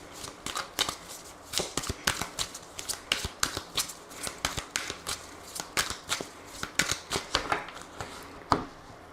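A deck of Aphrodite oracle cards is shuffled close to the microphone, giving rapid, crisp riffling bursts that repeat in an uneven rhythm for about nine seconds, with no voices.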